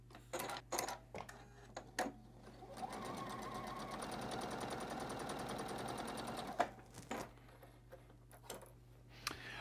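A sewing machine stitching rows of quilt blocks together with Michael Miller fabrics, its quiet, rapid needle rhythm running steadily for several seconds between short start-and-stop bursts and clicks.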